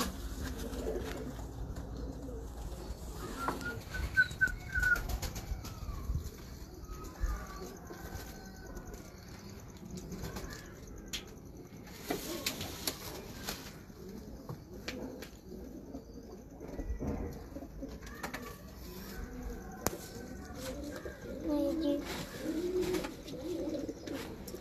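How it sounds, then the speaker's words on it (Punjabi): Faisalabadi (Shah Parwaz) pigeons coo softly in a loft, with repeated low, gentle calls, a few wing flutters and faint background voices. "ਇਹ ਸਾਡੇ ਫੈਸਲਾਬਾਦੀ ਕਬੂਤਰ ਨੇ"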